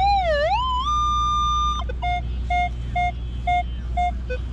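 Metal detector target tone: an opening warbling pitch sweep that settles into a steady high tone, then a string of short, evenly spaced beeps, loud and alone over low ground rumble.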